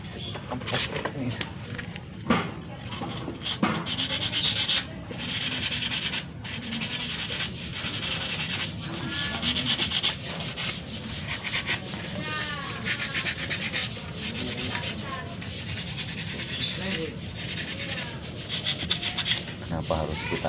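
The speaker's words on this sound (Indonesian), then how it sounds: "Bisa kita amplas ini." Steady rasping of sandpaper rubbed back and forth by hand against a hard metal part of an overlock sewing machine, continuous and close, with faint bird chirps in the background.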